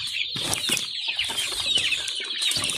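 Native farm chickens, some of them sick with cough and colds, cluck and chirp steadily up close, with brief bursts of wing flapping mixed in.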